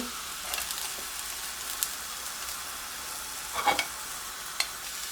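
Steady frying sizzle of eggplant slices in a pan over fairly high heat, fairly quiet and continuous, with a few soft clinks and scrapes of a utensil turning the slices.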